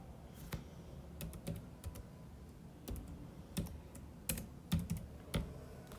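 Quick, irregular keystrokes on a computer keyboard clatter close by in short bursts and single taps, with a low room hum underneath and no talking.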